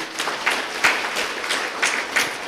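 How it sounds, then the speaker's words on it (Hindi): Applause from an audience at a Brahma Kumaris spiritual class in Nagpur, honouring a guest: steady, moderately loud clapping for about two and a half seconds with brief surges, no speech. "इनके लिए जरा जोर से तालियां बजाइए"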